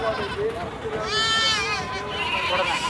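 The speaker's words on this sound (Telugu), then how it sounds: "ఇక్కడక్కడ ఒక 2 మేకలు 3 మేకలు అనేది ఉన్నాయి" Goats bleat at a busy Gudur livestock market, a drawn-out wavering call rising clearly above constant crowd talk and murmur, with another bleat fainter afterward.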